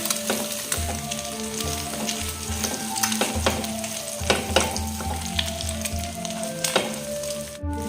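Puffed rice (murmura) seasoned with turmeric, chili powder and salt sizzles steadily in a pan, with scraping stirs recurring throughout and a tonal musical bed underneath.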